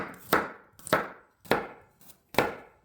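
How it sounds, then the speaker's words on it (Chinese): A knife chops sliced garlic into fine mince on a cutting board: five sharp, close chops, evenly spaced about half a second apart, each with a brief woody ring, and no voices. "然后再慢慢剁成蒜末"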